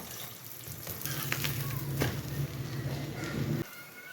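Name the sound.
aloo paratha frying in oil on a pan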